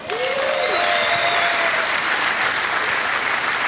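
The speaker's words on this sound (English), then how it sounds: "Please give a round of applause, Paulette." Steady, loud audience applause filling a stand-up comedy show, continuous dense clapping with a few whoops and whistles rising above it, no talk over it.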